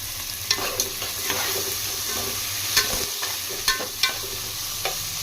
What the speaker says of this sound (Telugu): ఈ టమాటాలు కొంచెం మెత్తబడే వరకు ఫ్రై చేసుకుందామండి